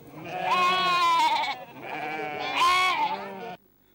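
Sheep in a farm flock of more than 200 give two long, wavering bleats close by, one after the other with a short gap, loud and clear with no talk.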